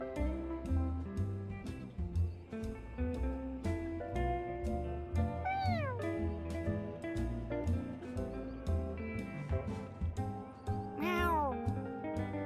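A cartoon cat meows in the video game Mewgenics, with two drawn-out, falling meows rising above a steady, rhythmic game music loop.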